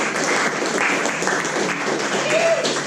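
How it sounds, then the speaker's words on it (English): Applause from a small audience at a pizza gathering in East Tennessee, a moderate, continuous patter of clapping with some crowd noise mixed in. "let's give it a round of applause for them"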